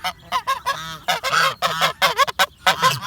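Geese honk loudly and repeatedly in a busy, overlapping chorus, with short bursts of nasal calls close by.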